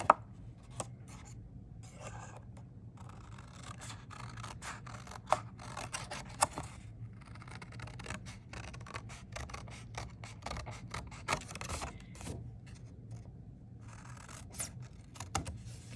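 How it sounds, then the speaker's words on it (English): Scissors trim the paper overhang on a layered craft card, giving quiet, close snips and rustling paper cuts in short irregular bursts, with no talking. "I'm gonna get my scissors and trim off the overhang."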